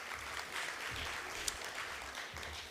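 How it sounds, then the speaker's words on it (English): A conference audience applauds, a soft, even wash of many hands clapping that carries on at a distance throughout. "Round of applause."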